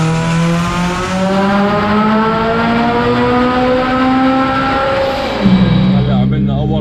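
A Mitsubishi Evo 5 RS engine revs hard on a dyno, its tone climbing steadily in one loud sustained pull before cutting off near the end.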